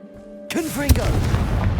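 Confringo fire spell exploding in Hogwarts Legacy, a sudden sharp blast after a moment of quiet, followed by a lingering low rumble with crackling debris and a brief voice.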